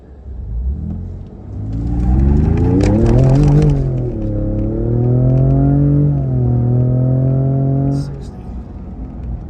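A 2020 Ford Raptor pickup with turbocharged engine accelerating hard from a stop, heard from inside the cab as a loud rising rumble that climbs in pitch through gear changes before easing off.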